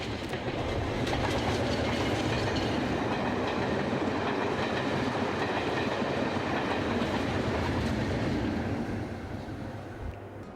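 A Class 37 diesel locomotive, D6990 in 1960s green livery, passes on the Vale of Glamorgan line at Aberthaw, giving a broad rumble with rhythmic wheel clatter that swells and holds before easing toward the end.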